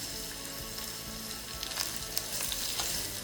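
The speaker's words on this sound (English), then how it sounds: "Just let that fry." Chili, ginger, cumin and coriander spices fry in a pan for an Indian potato and okra curry, giving a steady close sizzle throughout with a few brief crackles and stirring scrapes.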